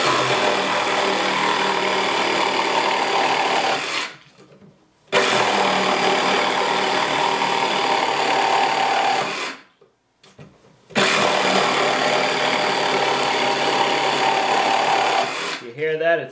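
A cordless power tool running on a cheap, weakening battery makes three steady, close, whirring cutting passes, each separated by a short silence.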